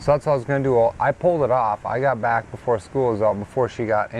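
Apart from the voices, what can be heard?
None of the usual background noises is heard.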